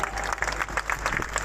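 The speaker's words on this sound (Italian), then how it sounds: "Facciamo un altro applauso al nostro splendido presepe vivente" An outdoor crowd at a Christmas political gathering in a Roman piazza claps for a living nativity scene, dense continuous applause over a low background rumble.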